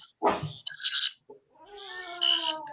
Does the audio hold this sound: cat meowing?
yes